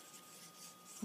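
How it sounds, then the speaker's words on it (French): Alcohol marker (Stampin' Blends) coloring back over a pale layer on cardstock, a soft steady scratchy rubbing of felt tip on paper, close and quiet, no talking. "je vais aller colorier par-dessus pour comme bien mélanger"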